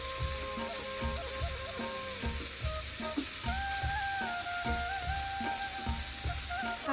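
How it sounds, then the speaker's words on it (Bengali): Cabbage, capsicum and carrot frying in a pan make a constant close sizzle, with a rhythmic musical beat and melody playing over it throughout. "পরে এবার আমি সবজিগুলো ভেজে নেব"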